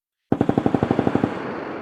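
Machine-gun fire from a 1967 Vietnam War landing-zone clearing: a single rapid burst of about fourteen evenly spaced shots, loud and close, trailing into a short echoing decay.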